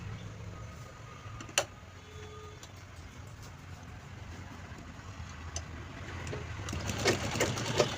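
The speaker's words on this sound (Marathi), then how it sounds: "आता याच्यावरती आपण हे अशा प्रकारे हँडल स्टिच करून घेऊया, शिवून घेऊया." A sewing machine stitching a bag handle, with a low steady mechanical whir running the whole time, a few light clicks, and the motor getting somewhat louder toward the end. No talk is heard.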